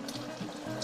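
Liquid poured from one pot into another while making Bolognese, a brief close splashing and trickling pour, steady and moderately quiet.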